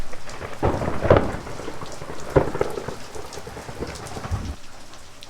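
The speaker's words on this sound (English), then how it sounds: "these storms this weekend packed a lot of lightning" Weekend thunderstorm with heavy rain pouring steadily and several booming thunder rolls rising and fading over it, no voices.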